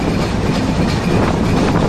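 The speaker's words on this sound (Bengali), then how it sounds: "আর আমাদের ট্রেন আস্তে আস্তে প্রবেশ করছে বাংলাদেশের সবচেয়ে বড় রেল সেতু" The Chilahati Express intercity train rolls onto a long steel rail bridge, its wheels giving a steady loud rumble and rattle from close on board, with no talk.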